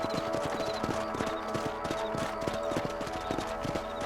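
Horse hooves galloping in the Red Dead Redemption video game, a rapid, regular clip-clop of hoofbeats close and steady throughout, set against a sustained musical score.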